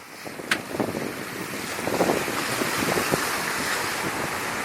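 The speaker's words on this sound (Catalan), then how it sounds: "Perquè anem a 7 nusos de velocitat amb uns 17-18 de vent, direcció Lanzarote." Sailboat under way at about 7 knots in a 17–18 knot wind on an Atlantic passage toward Lanzarote, with a steady rush of water and wind noise buffeting the microphone, punctuated by occasional splashes and thumps of the hull.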